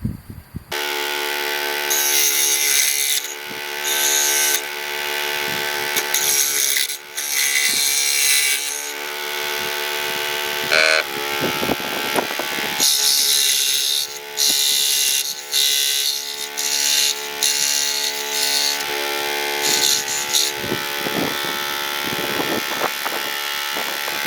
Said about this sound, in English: Now I'm going to cut a slither in here for the arrowhead